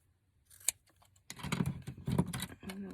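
Scissors snipping through thick paper and fabric scraps during a papercraft junk-journal session, a faint snip early on followed by a denser run of close cutting and rustling crunches.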